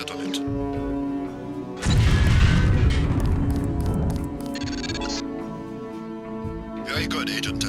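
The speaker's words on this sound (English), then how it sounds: "If you aren't close enough, the lamp will fall to the ground and detonate." Lamp detonates in the Deus Ex video game, a loud booming blast over steady background music, followed by softer crackles and debris while a voice speaks.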